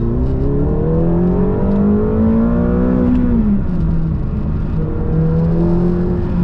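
A McLaren GT sports car engine in comfort setting accelerates on the road, its loud rising engine note climbing steadily and continuously, close to the listener with no voices.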